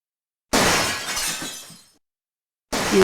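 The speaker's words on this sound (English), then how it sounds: "Gabriel hears the faint sound of breaking glass." Glass shatters in a sudden, sharp crash in the Gabriel Knight: Sins of the Fathers adventure game, the bright tinkling debris fading over about a second, followed by silence and then the start of another loud sound.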